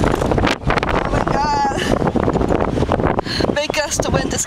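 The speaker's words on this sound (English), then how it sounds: "Big gust of wind just came up." A strong gust of wind buffets the microphone outdoors on a walk, a loud continuous roaring rush with sharp whistling streaks, steady throughout and not masked by voices.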